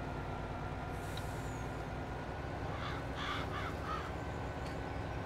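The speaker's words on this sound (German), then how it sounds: "Und die Krähe aus der Silage raus." Crows caw in the Farming Simulator 22 game near a silage pile, a short cluster of calls in the middle over a steady low farm-machinery rumble.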